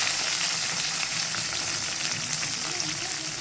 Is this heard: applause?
no